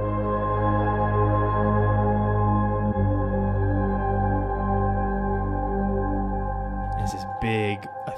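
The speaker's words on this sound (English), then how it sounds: "went wild with that to turn my piano into a pad" A piano reshaped into a soft sustained pad through chorus, reverb and EQ that lifts the mids and strips the lows and highs, composed for DC Stargirl; dense, steady harmonic wash holding throughout, breaking up near the end.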